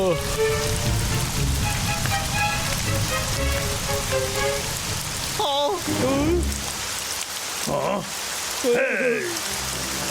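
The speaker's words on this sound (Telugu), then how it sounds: "వర్షం పడుతుందన్నయ్యా" Steady rainfall patters continuously through a cartoon forest, a soft even hiss that stays under several animated character voices speaking and exclaiming over it.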